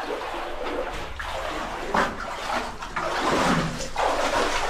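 Water flows steadily outdoors, a continuous broadband rush with surging swells, fairly close and moderately loud, with a faint voice at moments.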